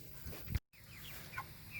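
Chickens cluck softly on a farm, a few low clucks and higher chirping calls spread across a short stretch, fairly close, after a brief cut in the sound.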